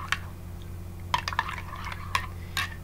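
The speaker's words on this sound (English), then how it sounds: "Now I get to stir." Spoon stirring a very hot fig chai tea latte in a cup, giving a few separate light clinks and liquid swirls over a low steady hum.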